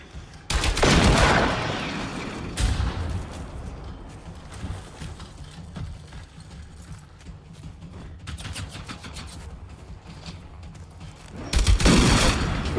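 Sniper gunfire rings out in the video game Generation Zero: a loud volley of sharp cracks near the start, a lone shot soon after, quiet ambience with faint thuds, then another loud burst at the end.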